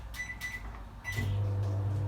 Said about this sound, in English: I just pop it in my microwave for 2 minutes.